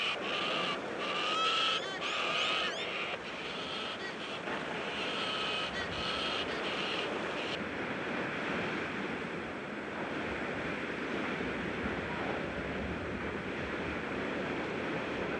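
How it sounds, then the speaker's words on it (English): Galahs screech and squawk in harsh bursts during the first half, heard through a steady roar of howling wind in the Australian bush, before the wind carries on alone. "when the wind howls, even the galahs sit tight, complaining until it all blows over."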